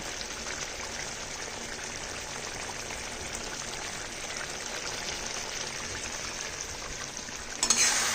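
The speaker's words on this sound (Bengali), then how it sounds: "তেলটা ভালো করে মিশিয়ে দিই" A dish cooks in a pan as raw mustard oil is stirred in, producing a steady, even frying hiss at moderate volume with a brief clatter at the very end.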